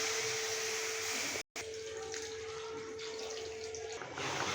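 Water is poured into a pan of Bengali-style chicken curry with potatoes, a steady rushing hiss that runs almost throughout, broken by one brief silent gap.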